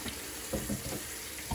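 Tap water runs steadily at a sink to rinse out a bowl, with a brief close hiss and light splashing. No voices are heard.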